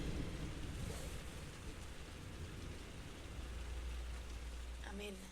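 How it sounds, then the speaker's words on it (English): Rain falls steadily in December in the Tennessee mountains, a dense, even hiss of drops with a low rumble underneath, and a voice comes in briefly near the end. "If you hear the rain, shout out."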